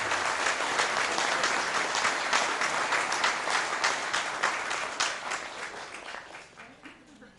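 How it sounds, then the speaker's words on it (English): At a board of education meeting, a room applauds fine arts students with a round of steady clapping that holds for several seconds and then fades away gradually. "please give them another round of applause on their accomplishment"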